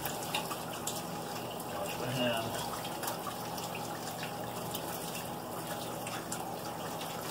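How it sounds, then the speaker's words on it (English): Tap water runs steadily into a sink while hands are washed, a soft continuous splashing hiss at moderate level with faint drips and brief rustling, no speech heard. "Wash my hands."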